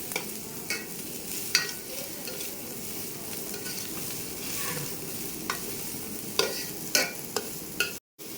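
Chopped onion, cabbage, carrot and beans fry in a pan for chicken fried rice, giving a steady close sizzle broken by repeated scraping stirs and a few sharp clacks of the spatula, with no talking.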